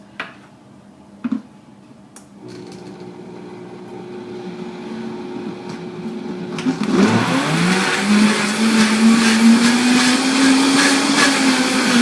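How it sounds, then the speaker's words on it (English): After a few quiet clicks, a blender switches on and roars up to a steady whir, blending greens, a little tea and coconut with banana into a smoothie, loud and rising in pitch as it settles. "So now I'm simply going to hit blend."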